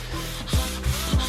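Hand sanding the body of an Impala SS car before paint: a few short, close rasping rub strokes, three quick scrapes over a soft steady background hiss.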